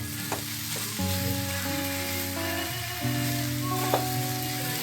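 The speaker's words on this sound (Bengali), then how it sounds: "ফ্লেমটা বাড়িয়ে দিলাম বাড়িয়ে দিয়ে একটু ভাজা ভাজা করে নেব" Grated radish chhechki frying over a raised flame in a home kitchen, with steady broadband sizzling throughout and a few utensil scrapes and clinks from stirring, while a tonal music-like hum runs underneath.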